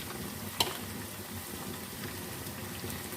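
Machine-made minced mutton fries in a pan with onions, giving a steady close sizzle throughout, with one sharp stir or clink near the start.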